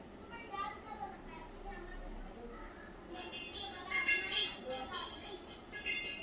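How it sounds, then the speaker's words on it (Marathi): Children play outside near a window in a home kitchen, their high, shrill voices distant and rising into livelier shouting partway through, over a low steady background hum. "बाहेर मुलं खेळत आहे ना"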